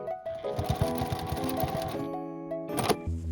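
A sewing machine stitches a patchwork fabric pouch made from scraps, running in a steady fast mechanical whir with rhythmic needle clatter, close and clear, then slowing and stopping near the end.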